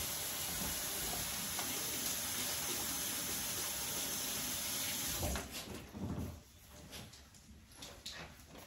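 Tap water runs steadily into a sink during handwashing, a continuous rushing stream that carries on for several seconds, then breaks up and thins as the flow is disturbed and eased off near the end.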